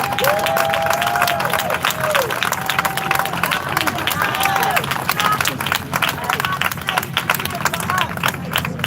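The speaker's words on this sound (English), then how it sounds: "please join me in applauding this great brother for the great work he's doing" Sustained audience applause: steady, dense clapping for nearly nine seconds, with voices and occasional calls from the crowd over it.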